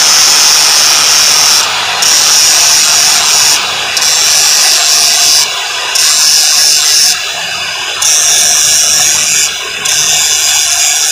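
An angle grinder grinding parts while a dynamo is dismantled, a steady loud high whine running throughout with brief dips every couple of seconds as the tool is eased off the workpiece.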